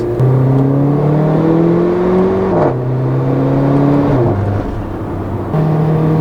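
A 2015 Mercedes-Benz GLA 45 AMG engine revs repeatedly from inside the cabin, pitch climbing and falling in several loud sweeps with brief drops between pulls, no talking.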